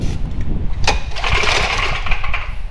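A small engine on a salvaged Apple leaf vacuum cranks and sputters toward starting after a shot of starting fluid, loud and close, with a brief sharp knock partway through and no clear talk.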